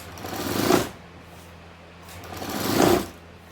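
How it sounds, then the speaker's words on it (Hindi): Sewing machine stitching a neck strip onto a kurti, two distinct bursts of motor whir, each building up and then stopping, with a short pause between them. "इसको इसी शेप में हम पैर पैर सिलाई मारते हुए स्टिचिंग मार देंगे।"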